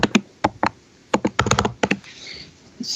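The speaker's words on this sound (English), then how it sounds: "I'll let Jeff finish typing there." Bursts of computer keyboard typing, with several quick clustered keystrokes and short pauses between them, close and fairly loud, ending in a brief soft rustle.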